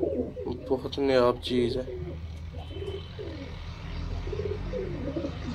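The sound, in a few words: Kamagar pigeons cooing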